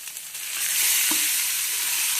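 Marinated chicken dropped into spices already fried in hot oil for a chicken and potato curry; a close, steady sizzle swells and holds, loud and unbroken, with no voices.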